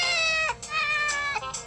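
A phone ringtone of a cat meowing plays three drawn-out, tonal meows in a row, clear and close, alone without talk.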